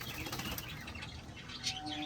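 Soft, fluttering wingbeats of Madras pigeons, steady and close, with faint chirps in the background.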